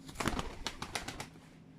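Tumbler pigeons coo softly in a series of rhythmic throaty pulses, close but quiet, with no talking.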